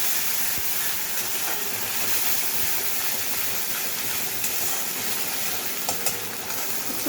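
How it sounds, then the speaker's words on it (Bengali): Ginger, garlic and onion paste sizzles hard in hot oil while being stirred, producing a dense, continuous hiss with occasional scrapes and clicks, close by. "আগের থেকে আদা রসুন পেঁয়াজ পেস্ট করে রেখেছিলাম, ওটা দিয়ে দিলাম তেলের মধ্যে।"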